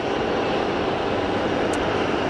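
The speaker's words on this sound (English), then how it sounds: "So the Challenger 350 is on short final" A Challenger 350 business jet on short final at Geneva Airport gives a loud, steady broadband roar of engine noise that holds constant throughout, close and unbroken.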